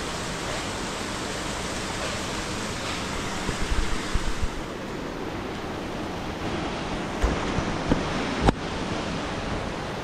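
A river rushes near Dupcheshwor Mahadev temple in Nuwakot, Nepal, a loud, steady roar of flowing water that continues the whole time with small surges and no voices.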